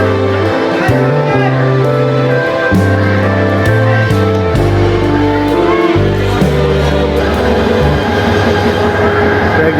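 A crowded passenger train rumbles loudly and continuously along the rails, with rhythmic clatter and a steady drone, while voices chatter nearby.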